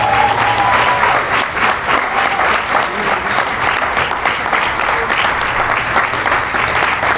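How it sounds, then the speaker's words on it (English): A crowd at an outdoor community groundbreaking ceremony gives sustained, loud applause, dense clapping continuing for several seconds with scattered voices mixed in. "Give them all a round of applause"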